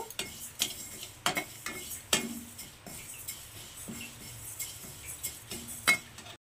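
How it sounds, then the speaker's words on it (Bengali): Moong dal is dry-roasted and stirred in a pan, giving soft sizzling under repeated sharp clinks and scrapes of a spatula against the metal, in an uneven, close rhythm. "মুগ ডালটা সুন্দর ভাজা হয়ে গেছে আর সুন্দর গন্ধ বেরিয়ে গেছে"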